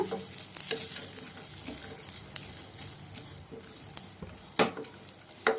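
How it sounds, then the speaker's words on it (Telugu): Sesame seeds frying in a pan near the end of making a spicy stuffed-brinjal masala, with a steady crackling sizzle and scattered sharp scrapes and taps as a spoon stirs them, close and clear. "నువ్వులు వేసుకుందాము వేసుకొని ఇంకా స్టవ్ అయితే ఆపేసుకుంటాము కొంచెం ఫ్రై అయిన తర్వాత"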